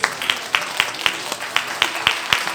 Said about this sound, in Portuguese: Aplaude Jesus porque Ele merece.